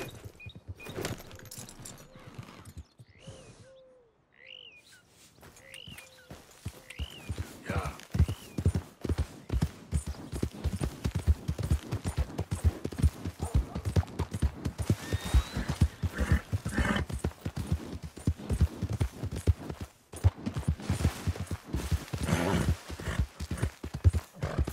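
Steady clip-clop of horse hooves at a brisk pace in Red Dead Redemption 2, loud and close, with a few whinnies early on and faint voices underneath.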